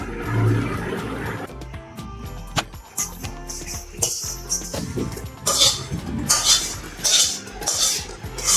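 Cooked shol fish pulao is tipped from a pot into a large bowl, with metal scraping, spoon clatter and soft thuds of rice in uneven bursts, close and fairly loud.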